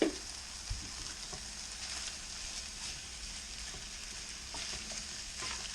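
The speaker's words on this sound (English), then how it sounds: "Give that a good stir." Eggs frying in a pan for quick fried rice give a steady, moderate sizzle, with faint scrapes of stirring running through it.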